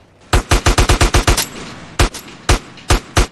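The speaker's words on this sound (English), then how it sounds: "I did shoot him up" Rapid bursts of gunfire from shooting enemies in GTA San Andreas, a quick run of about eight close, loud shots followed by a pause and then several spaced single shots, with no talking.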